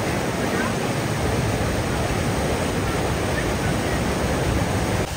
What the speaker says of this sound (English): You probably can't hear us because it's really windy and the waterfall's moving.